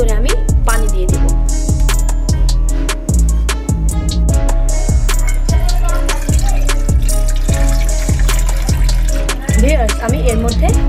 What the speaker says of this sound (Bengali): তারপর এর ভিতরে আমি পানি দিয়ে দেব